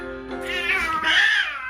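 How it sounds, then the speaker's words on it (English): Cats fighting in a workshop give a loud, close caterwauling yowl that rises and wavers in pitch, with no voices over it. "Hey, cat's fighting."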